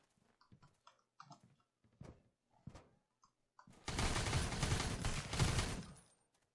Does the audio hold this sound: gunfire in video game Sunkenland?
yes